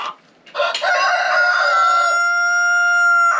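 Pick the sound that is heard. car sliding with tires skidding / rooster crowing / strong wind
rooster crowing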